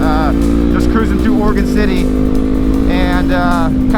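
Motorcycles rumble along on an Oregon group ride through Oregon City while riders pull wheelies. A loud, steady engine drone and road noise run throughout, with a voice talking over it.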